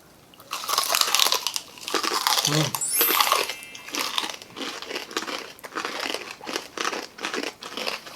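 Crispy lechon kawali pork being bitten and chewed at close range during a Filipino mukbang, giving repeated crunchy crackling bites and crinkles over about eight seconds.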